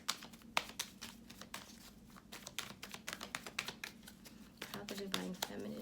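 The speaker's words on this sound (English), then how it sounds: "I would so shuffle this off camera, but I don't want anybody telling me that I pre-picked the cards" Cards are shuffled during a tarot reading, giving a run of quick, crisp riffling clicks and flutters up close over a low background hum, with no talk in the clip.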